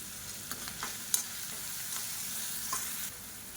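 Onions and chopped garlic sautéing in a pan with salt, a steady soft sizzle with a few light scrapes and clicks of a stirring spoon, fairly quiet and close, no voices.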